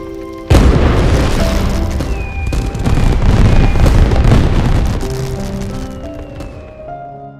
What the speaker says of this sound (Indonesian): petasan dan kembang api yang mereka saksikan